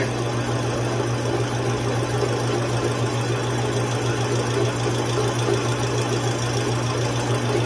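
A Stihl MS880 chainsaw running at a steady idle, a continuous loud buzzing engine drone with even vibration and no change in pitch, close by and without speech.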